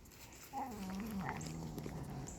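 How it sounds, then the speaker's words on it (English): A puppy whimpers with a thin, wavering high whine that rises and falls over a couple of seconds, fairly quiet against a constant background hiss. "You beating up the puppy?"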